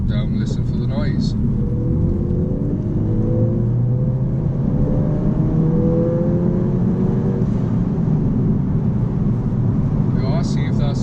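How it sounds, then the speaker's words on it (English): Ford Fiesta ST with its Symposer deleted pulls hard in third gear, a loud steady engine drone with rising harmonic tones as revs climb, constant road and wind rumble underneath, and faint talk at the start and end. "So I'm in third gear, 2000 RPM, so I'm going to put my foot down and listen for the noise."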